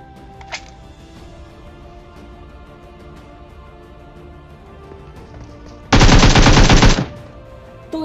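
Burst of automatic gunfire from a PUBG duo match, a loud dense volley lasting about a second, preceded by quieter distant shots over steady game ambience.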